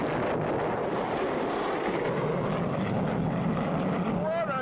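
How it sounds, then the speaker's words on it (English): A cartoon rocket blasting off produces a steady, dense roaring rush that holds loud throughout, ending with a rising whistling tone. "What a takeoff!"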